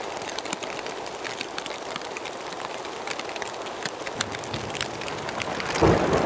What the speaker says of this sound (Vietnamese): Mưa to thế nhỉ.